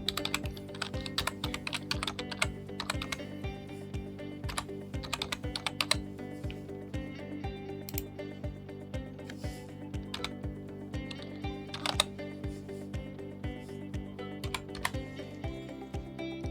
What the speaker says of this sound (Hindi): मु यूजर नेम टाइप कर नउछि